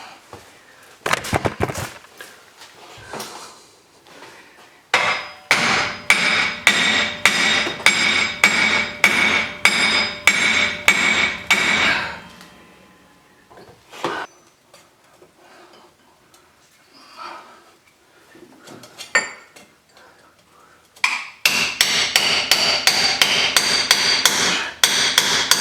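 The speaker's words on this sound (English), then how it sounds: "So let's give it a couple whacks on the bottom." A hammer strikes a stuck front hub and wheel bearing assembly on a 2004 Chevy Suburban in loud, sharp metallic whacks. Some blows are single, others come in fast rhythmic runs, with quieter pauses between the bursts.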